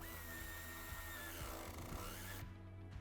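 A power tool whirs steadily, tightening a nut and washer onto the ground wires while fitting a towbar electrical kit on a 2019-2021 Porsche Macan. It runs continuously, fairly close, and there is no talk.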